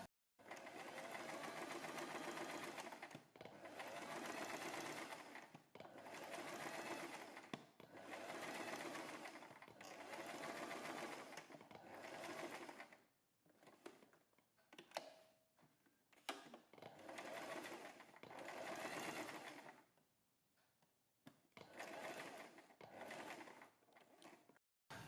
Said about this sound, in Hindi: इसी तरह से इस पट्टी के ऊपर भी थोड़ा सा नीचे से शुरू करेंगे और यहाँ तक सिलाई लगाएंगे